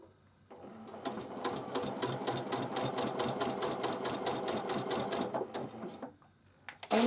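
A sewing machine stitches directly through a two-layer quilt sandwich made from fabric squares with no backing, running in a steady fast rhythmic chatter of needle strokes for several seconds before stopping.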